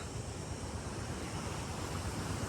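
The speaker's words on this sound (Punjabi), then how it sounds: "ਇਹ ਪੈਂਦਾ ਪਾਣੀ ਇੱਥੋਂ ਦੀ ਨਿਕਲਦਾ" Canal water gushes out of an underground crossing near Paonta Sahib in a steady, even rushing hiss, moderately distant and unbroken, with no voices over it.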